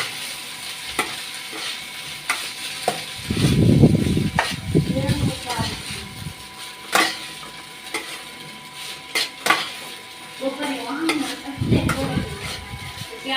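Veg pulao rice being stirred and mixed in a pot, with soft sizzling, scraping and the clink of a spoon against metal, and a person talking over the mixing.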